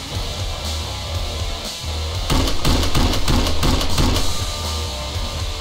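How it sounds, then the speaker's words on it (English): Rapid bursts of gunfire in the video game Killing Floor crackle over a steady background hum, with a dense volley in the middle of the stretch. "hearing gunfire."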